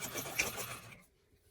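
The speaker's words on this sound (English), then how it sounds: "Sew a few times over." Sewing machine stitching back and forth over a fabric medical face mask, a close rapid whirring run that stops abruptly after about a second.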